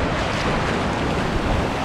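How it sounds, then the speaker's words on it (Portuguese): Ocean waves at high tide breaking against rocks in Guarapari, a loud, dense, continuous roar of surf mixed with wind buffeting the microphone. "Olha lá, onda se formando."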